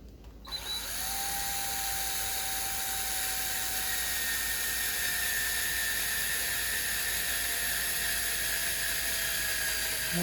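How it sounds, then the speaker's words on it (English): A high-pitched electric drill driving into a melamine shelf unit whirs continuously after a brief start, its whine holding steady and slowly drooping in pitch, loud and close. "Yes, I've been using the drill."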